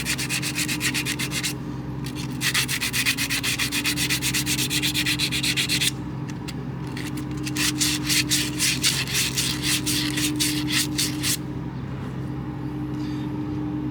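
Rust being scraped and sanded off a truck by hand, a harsh rasping in rapid back-and-forth bursts with short pauses, close and loud over a steady low hum.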